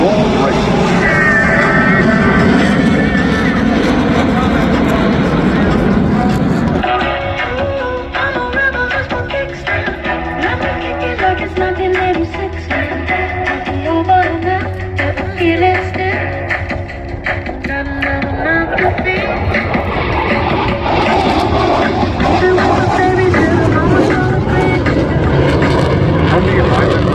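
Blue Angels jet roaring overhead during a barrel roll at the Spirit of St. Louis Airport air show, loud and sustained, swelling and fading as it passes, with an announcer's voice over it.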